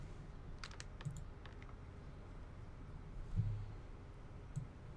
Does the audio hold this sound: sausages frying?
no